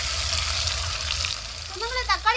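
Chopped onion and tomato sauté in hot oil in a pan, giving a continuous close sizzle with a light stirring scrape, and a voice breaks in briefly near the end.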